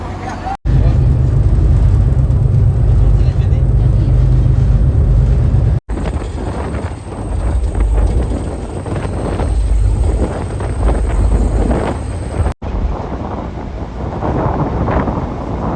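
Loud, continuous wind buffeting and engine rumble roar throughout on a rough sea crossing to Atauro Island, Timor-Leste, broken by two brief cuts, with the low drone of a boat underneath.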